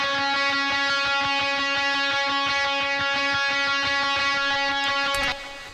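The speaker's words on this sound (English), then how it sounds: "And this is just playing some unison notes at the end of the chorus that you might have picked up on." Electric guitar playing sustained unison notes through a driven Vox AC30 Kemper profile, a thick, mid-forward harmonic tone with repeated picked attacks that fades out at the end.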